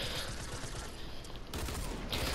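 Gunfire in Fortnite, a dense stream of rapid shots running through the whole moment with a brief lull in the middle, fairly loud and close, with no voices over it.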